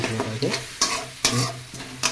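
Spice paste for a tilapia fish curry is stirred and fried in a pan, sizzling steadily while a spatula scrapes through it in regular strokes about every half second.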